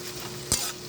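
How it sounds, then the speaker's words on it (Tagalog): Tomato and onion sautéing in a home kitchen pan, a steady sizzle with a single brief stir scrape in the middle, close and alone. "Igisa-gisa lang natin."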